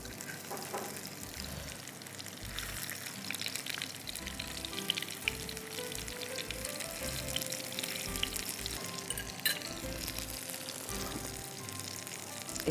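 Corn and methi seekh kababs on skewers frying in oil in a crowded frying pan give off a constant, moderately quiet sizzle with scattered pops and spatters, and nobody speaks.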